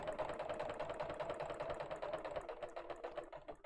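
A sewing machine set to a small 2.2 stitch length runs carefully around the edge of a piece, its rapid even needle clatter close and quiet, with no voices.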